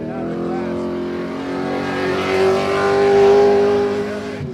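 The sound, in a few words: race car engine at full throttle on road course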